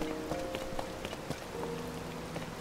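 Steady rain falls in the open world of the video game Zelda: Tears of the Kingdom, a close, dense patter with faint tonal game sounds layered over it.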